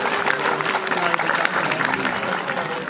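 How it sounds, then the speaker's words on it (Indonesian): Audience at a religious gathering marking a high school's anniversary bursts into steady applause, a dense wash of many hands clapping at once throughout, with crowd murmur mixed in. "Ya tepuk tangan dulu ndak masalahnya."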